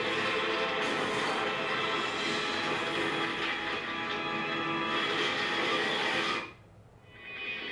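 Train overturning in the Demon Slayer anime, a loud dense roar of grinding and rattling metal that holds steadily before dropping off abruptly into a quieter tail.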